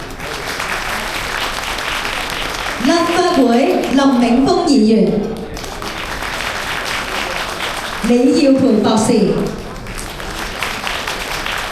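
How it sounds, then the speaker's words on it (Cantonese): Banquet hall audience at an automotive battery and tyre trade association inauguration dinner breaks into a continuous wash of warm applause welcoming guests, heard throughout beneath a male announcer's amplified voice calling out names. "熱烈掌聲感謝立法會邵家輝議員 JP"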